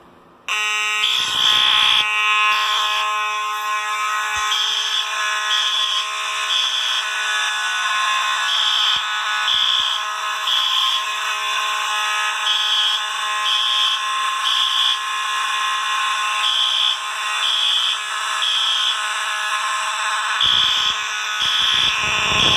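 An alarm system under test blares a loud, repetitive electronic tone in rapid pulsing bursts for about twenty seconds, starting abruptly and cutting out at the end, with no voices.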